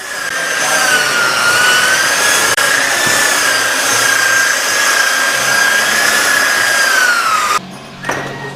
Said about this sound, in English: As he uses the buffing wheel and the polishing compound, it will throw some of that around